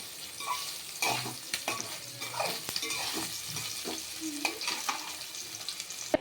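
Paneer fries in a pan while being stirred and turned, a soft crackling sizzle broken by scraping and light knocks of a spatula against the metal.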